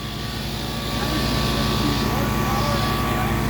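A Cummins diesel engine in a Ram truck runs hard on a dyno, a loud, continuous deep drone with a steady rumbling throb that fills the whole stretch, with voices faintly beneath it.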